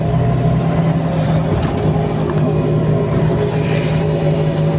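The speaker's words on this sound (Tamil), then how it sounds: "இப்போ அப்படியே ஸ்பீடு குறைச்சு வண்டி சவுண்டை கேட்குதா" A Maruti Omni van's engine runs nearby at a steady pace, a loud continuous drone with a low hum and faint road noise, without speech.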